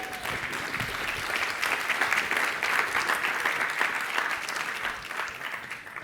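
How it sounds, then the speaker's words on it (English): Audience applause for an innovation panel being called on stage at a marketing conference, a dense, steady wash of many hands clapping that holds evenly throughout and eases slightly at the end. "So if we could have a big round of applause for our panel"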